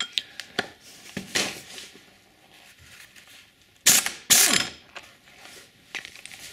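An impact wrench loosens a nut on a Yamaha PW50 engine. It rattles in short, loud hammering bursts with a few mechanical clicks between them, and a rag is wedged in to hold the gears.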